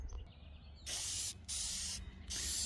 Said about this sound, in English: Make sure you point the nozzle in the direction you want the paint to go.